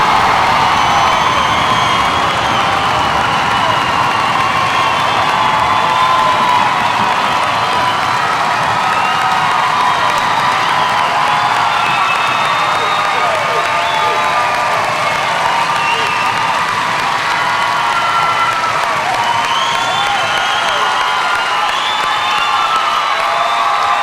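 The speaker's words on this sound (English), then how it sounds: "Let them know how proud you are of them with a thunderous round of applause." Loud crowd applause and cheering with whoops fill an outdoor Army graduation for soldiers of Delta Company, 3/47 Infantry Regiment at Fort Benning, sustained and dense throughout.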